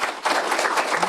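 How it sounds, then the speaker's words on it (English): Audience clapping for the panellists at the close of a workplace wellbeing panel discussion, a brief burst of scattered hands rising quickly and continuing briefly. "if we could give a round of applause for our panellists"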